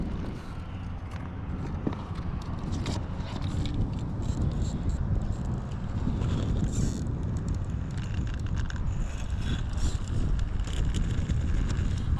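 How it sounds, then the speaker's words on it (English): Wind buffeting a camera microphone outdoors, a low rumbling gusty roar that swells and fades steadily throughout, with no talk. "Hopefully that wind isn't too annoying via camera and sound"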